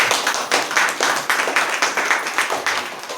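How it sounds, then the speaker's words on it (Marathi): Congregation clapping together at a New Year church service, a steady run of hand claps with rhythmic bursts, fairly close and uninterrupted by talk. "आपण जरा टाळ्या वाजूया त्यांच्यासाठी."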